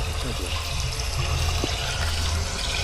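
Water begins gushing in the video game Very Little Nightmares, a dense, steady rushing flow that fills the whole short stretch at constant loudness with no speech.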